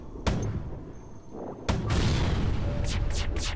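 Weapons firing on an enemy ship in the space strategy game FTL, two sharp booming shots spaced apart followed by a louder sustained blast with crackling impacts.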